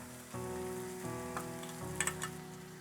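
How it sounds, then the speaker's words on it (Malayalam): Crushed ginger and green chili hit a pan of softened onions while mushroom stir-fry is being made, giving a steady, moderately loud sizzle with a tonal hum and a couple of sharp crackles near the end, with no talking. "ഇതിലേക്ക് നമ്മൾ ഇടിച്ച് വെച്ചിരിക്കുന്ന ആ ഇഞ്ചിയും പച്ചമുളകും ആഡ് ചെയ്യാം"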